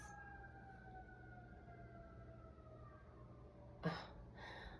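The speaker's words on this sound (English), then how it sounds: "can you hear that? Sirens." Distant emergency vehicle sirens wail outside, faint and drawn out with slowly falling tones, behind a quiet room.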